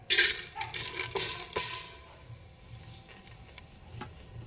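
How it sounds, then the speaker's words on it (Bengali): Raw rice poured into a hot pan for Bengali payesh gives a bright rattling patter with a few sharp grain clicks, loudest at the start and thinning to a faint hiss as it settles. "আমি এবার পাত্রে চাল দিয়ে দেব।"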